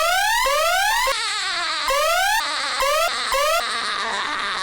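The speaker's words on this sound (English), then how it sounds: "SpongeBob has this annoying sound he makes" A SpongeBob minifigure toy emits a loud, shrill electronic sound that sweeps upward repeatedly in rising, siren-like wails, some choppy and broken, close and alone without talk.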